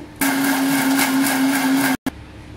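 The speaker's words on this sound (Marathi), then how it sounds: "हे डिंक मिक्सर मधून बारीक करून घेते" A mixer grinder grinding edible gum runs with a loud, steady high-pitched whir for nearly two seconds, then abruptly switches off and briefly restarts.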